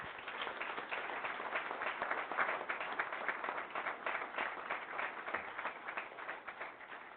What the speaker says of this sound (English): So again, let's give them one more round of applause.